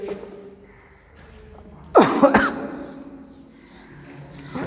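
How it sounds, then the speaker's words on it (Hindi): A single harsh cough bursts out near the microphone, followed by a couple of quick throaty hacks, against a quiet room background. "बड़ी खांसी आ रही है"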